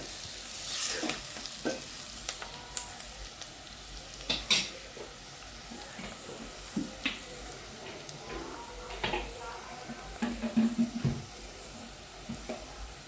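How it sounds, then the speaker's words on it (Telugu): Onions sizzle and fry in a pan while a spoon stirs them, scraping and clinking against the metal in irregular bursts over a constant hiss; no one speaks. "ఇప్పుడు ఉల్లిగడ్డలు ఉడికాయండి చూసుకుందాం ఒకసారి ఇలా కలిపేసుకుందాం"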